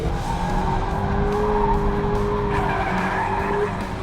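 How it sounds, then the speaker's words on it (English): Tires of a 2019 Mazda MX-5 squeal in a sustained, loud skid as the car slides on a race track, with steady engine drone underneath and no talking. "It's like you have an age of time to realize that the car is going into a slide"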